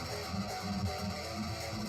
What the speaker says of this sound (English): The tone is now more gritty, punchy, and very much rock and roll.